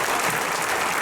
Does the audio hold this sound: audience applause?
yes